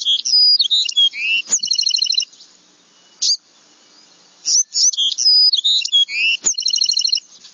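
Two bursts of bright, rapid wren song, a Carolina wren then a Bewick's wren, each a string of buzzy and trilled phrases, separated by a quiet pause; clear and near.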